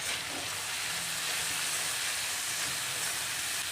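Fried potatoes go into a hot pan of spiced, cooked-down masala for a vegetarian home-kitchen dish, giving a steady, broad sizzle and hiss that carries on evenly throughout, with no talk over it.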